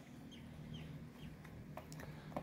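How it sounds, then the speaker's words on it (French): Soft, scattered clucks and chirps from several large broiler chickens over a steady low hum, with occasional brief rustles, moderately close. "petite vidéo de mes poulets à chair"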